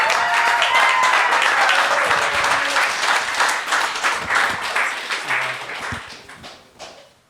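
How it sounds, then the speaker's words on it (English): Loud crowd applause and cheering after a live band's song, gradually thinning out and fading toward the end, leaving a few scattered claps. "Give them one more round of applause if you would, please."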